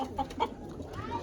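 Saharanpuri pigeons on a rooftop loft give a few soft, brief clucking coos close by against quiet background noise.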